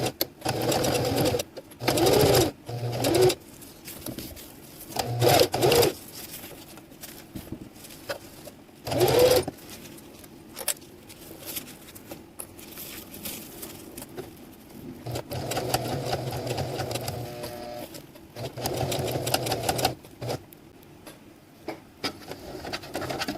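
Hand-crank sewing machine stitching a PALS/MOLLE webbing accessory pouch: rapid rhythmic mechanical chattering in several bursts of varying length separated by quiet pauses, close and clear with no talking.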